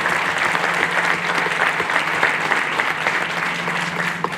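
Audience applause at a talk on post-earthquake reconstruction in Morocco, honouring national solidarity donations; steady, dense clapping from a sizeable crowd fills the whole stretch at an even level, with a low hum underneath.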